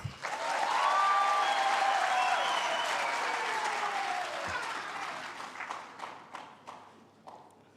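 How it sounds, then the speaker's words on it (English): A graduation ceremony crowd bursts into loud applause for a choir that holds steady for several seconds, then thins into scattered individual claps as it fades. "Another round of applause for the choir."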